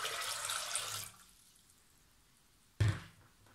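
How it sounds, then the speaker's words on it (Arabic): A litre of water poured into a pot for nettle vinegar with grated ginger makes a steady splashing rush that stops after about a second, followed by a quiet pause and a short splash. "هلا هون رح أضيف لتر المي"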